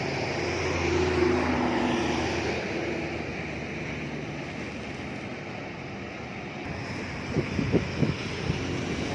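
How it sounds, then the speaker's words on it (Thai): Two fishing boats come in from the Gulf of Thailand toward a fishing pier on the Pattani River, their engines a steady low drone with wind noise. The engines swell slightly louder near the end. "เรือประมงสองลำกำลังเข้าท่าเทียบเรือนะครับ"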